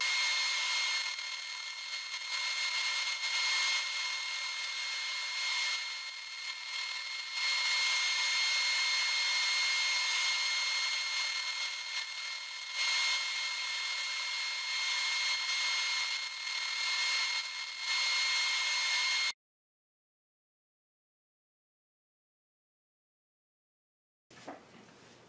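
Bandsaw cutting wooden discs from a segmented board for Christmas tree bells, a continuous loud high whine with slight swells as each cut proceeds, ending abruptly in silence before a brief final burst.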